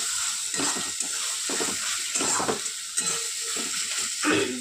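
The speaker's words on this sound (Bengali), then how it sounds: "অল্প জল দিয়ে দেবো, খুব সামান্য জল দিয়ে দিয়েছি যাতে মশলাটা লেগে না যায়" Water splashed in small amounts into a pan of mustard-poppy paste masala, with steady sizzling and a few stirring scrapes throughout, close and moderately loud.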